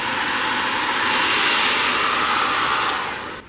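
A heat gun blows hot air over a plastic cover being stretched onto a chair seat. It makes a loud, steady, airy roar like a hair dryer that holds for a few seconds before tailing off, with no talking.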